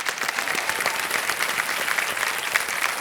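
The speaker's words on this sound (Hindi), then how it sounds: "तालियों के साथ एक बार फिर।" A studio audience on the KBC India quiz show applauds a contestant: dense, continuous clapping from many hands, full and even throughout, with no talk over it.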